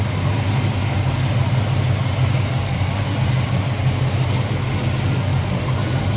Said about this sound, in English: Nice smooth running 396 V8